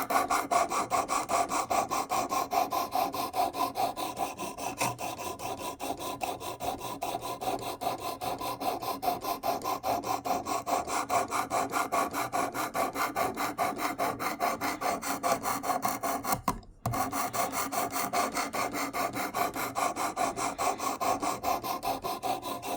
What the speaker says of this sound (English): These are diamond stones, so just let the diamonds do the work